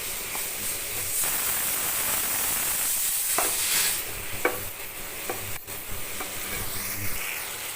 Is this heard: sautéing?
yes